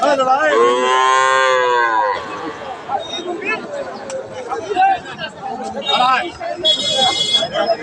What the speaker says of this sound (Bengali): এটা কিন্তু বেশ সুন্দর শাহিওয়াল একটা বাসুর বকনা বাসুর